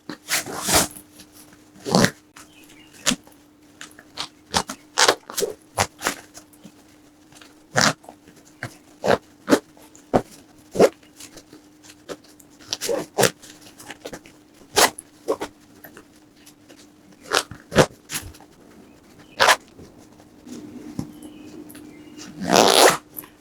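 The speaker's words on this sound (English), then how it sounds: "Let's see if we can get the compression zipper to close." Quick, scratchy zipping strokes of a compression zipper closing on a packing cube come in irregular bursts, close up and sharp, with short pauses between pulls and no talking.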